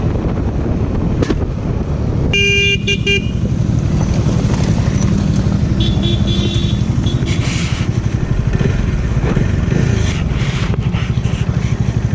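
Motorcycle ride filmed on the move, a steady engine drone under heavy wind buffeting the microphone, with a brief clatter of sharper sounds partway through and no speech.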